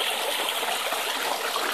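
A gravity-fed water stream at creek mining diggings rushes steadily and close by, with a dense, even splashing flow throughout.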